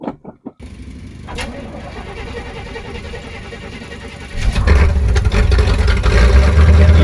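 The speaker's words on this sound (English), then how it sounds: "let's get this car started." A Corvette engine cranks briefly with a few clicks, catches and settles into a loud, rumbling idle that swells near the end, close by and with no talk over it.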